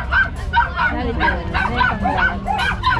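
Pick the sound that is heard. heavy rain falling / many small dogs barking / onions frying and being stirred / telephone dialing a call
many small dogs barking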